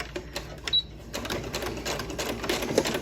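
Domestic sewing machine running a short back stitch on a fabric gift bag at stitch length 2.5, a quiet pause and then a quick rattling burst of needle strokes that builds slightly louder toward the end.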